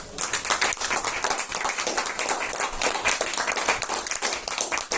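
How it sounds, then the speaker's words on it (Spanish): After a conference talk, an audience claps in a full, steady round of applause, close and fairly loud, with a dense patter of many hands lasting throughout. "Un aplauso."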